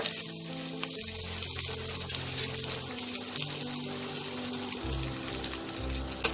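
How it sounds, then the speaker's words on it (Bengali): Ginger, onion and garlic frying in a pan for palak paneer, a soft steady sizzle at low level with faint clinks and a small knock at the end. "আমার এই আদা পেঁয়াজ রসুনগুলো ভাজা হয়ে গেছে"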